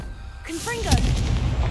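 A Confringo blasting spell goes off in Hogwarts Legacy, a sudden loud burst with a bright whooshing crackle followed by a sustained rumbling boom, as a voice speaks over the start of the effect.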